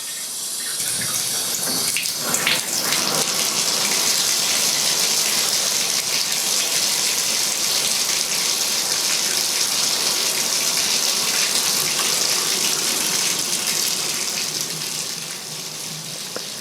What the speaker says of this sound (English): I find the sound of running water and bubbles fizzing to be really peaceful